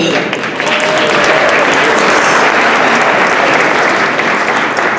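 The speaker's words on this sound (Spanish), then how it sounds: "Ahora un aplauso gigante." Loud, sustained audience applause at a Nerd Nite talk, dense continuous clapping filling the whole stretch at close range with a faint murmur of voices underneath.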